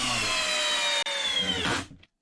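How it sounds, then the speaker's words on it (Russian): A power drill drives self-tapping screws into a wooden block while a Christmas deer is being assembled. The whine is loud and close, with one brief dropout, then it winds down and stops. "берем саморезы и там, где у него лапа, засверливаем"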